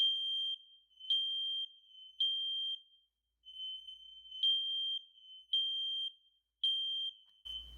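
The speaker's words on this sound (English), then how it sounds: "we want all detectors to beep at the same time" Several hardwired smoke detectors shriek together in a loud, piercing high tone, pulsing in steady repeated beeps with one short gap, ending on a faint click.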